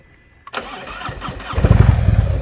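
A motorcycle engine fires up after a moment of quiet, then holds a steady mid-pitched running note that swells louder as the bike pulls away in first gear.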